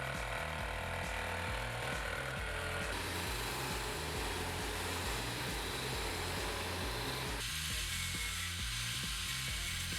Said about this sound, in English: Using an angle grinder, I make a groove in this Allen bolt.